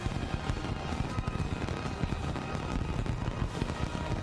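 Fireworks bursting behind a ship, a dense run of crackling pops and low booms that keeps going steadily at a moderate distance with no talk.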